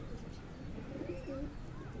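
Low cooing of a Sialkoti breeder pigeon, a soft steady murmur with faint chirps above, close and continuous for about two seconds with no talk.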